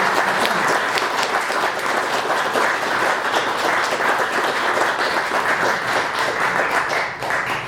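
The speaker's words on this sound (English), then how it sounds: "would you join me in giving a nice round of applause to Mary?" Sustained, even applause from an audience at a 2015 OMAH History Committee gathering honouring Mary, many hands clapping steadily for several seconds with no letup.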